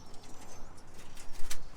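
Pigeons cooing in a loft, soft repeated low coos in a gentle rhythm, close but fairly quiet, with a faint chirp from another bird.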